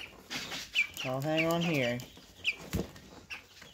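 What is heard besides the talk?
chicken clucking while being lifted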